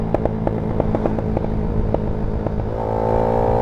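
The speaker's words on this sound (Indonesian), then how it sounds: "Ini cara biar bisa meledak-meledak ini." Honda Sonic motorcycle engine running with a steady exhaust drone, punctuated by repeated sharp crackling pops as the throttle is blipped and released, then settling into a smoother rising hum toward the end.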